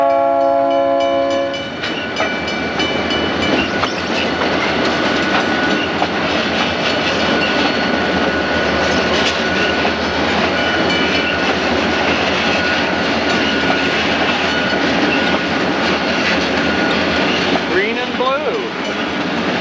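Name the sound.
westbound MKT freight train passing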